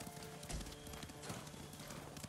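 Horse hooves clip-clopping steadily while riding in Ghost of Tsushima, a brisk rhythmic gait at moderate distance, faint and continuous with a low thump near the start.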